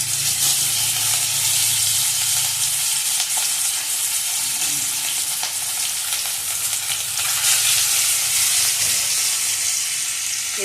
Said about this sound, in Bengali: মাছ ভাজা হবে, খাওয়া হবে।